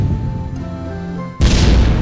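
A single heavy cannon shot booms out in the Ballerburg castle artillery game, a loud broadband blast that cuts in abruptly after a quiet stretch and holds at full strength to the end.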